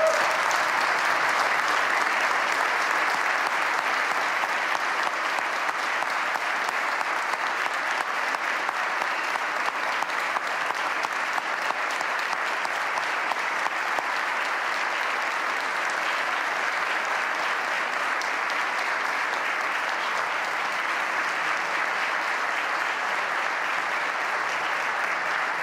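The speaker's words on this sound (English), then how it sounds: "Let's give them all a round of applause." A large audience at the 2015 Wisconsin state budget address applauds steadily for about twenty-five seconds. The clapping is dense and sustained and holds an even level throughout.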